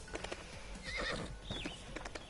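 Horse hooves clip-clopping and a sharp whinny from a horse in the video game Trials Fusion, clear and close over a steady background hum.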